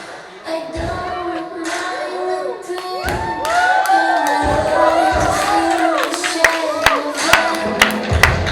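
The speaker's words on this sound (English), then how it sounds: "Cheer for everyone." At a calendar launch during an awards event, an audience breaks into cheering and clapping, with whoops, shouts and whistle-like calls rising over a swelling bed of applause that grows louder and sharper toward the end.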